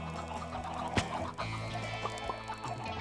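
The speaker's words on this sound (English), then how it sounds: "now we got some chickens in here" Minecraft chickens cluck in short repeated bursts over a dense, busy game-noise background, several birds close together and moderately loud.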